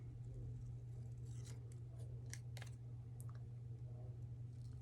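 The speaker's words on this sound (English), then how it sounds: "I'm just going to carefully, crisply cut that rectangle out" Scissors snip through paper to cut out a rectangle, a handful of crisp, irregular clicks and snips, faint and close, over a steady low hum.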